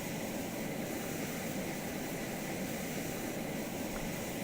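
F/A-18 Black Wasp jet taxiing in ARMA 3, a steady broadband engine roar and hiss that holds at a low, even level throughout with no voices.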